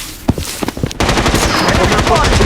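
Rapid automatic gunfire from the mobile shooter game Blood Strike, a few scattered shots followed by a dense, continuous loud burst of firing.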